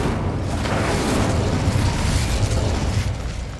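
Incendio fire spell going off in Hogwarts Legacy, a loud, sustained roaring burst of flame with a dense crackling rush that holds steady for several seconds, no voices over it.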